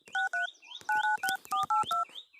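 Keypad tones beep as a number is dialed on a mobile phone, about eight quick, clear touch-tone beeps in an uneven rhythm, close and fairly quiet, with no talking.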